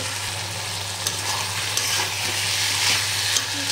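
Prawns with taro stolons frying in a little oil in a pan, a steady close sizzle with faint stirring scrapes and no talk.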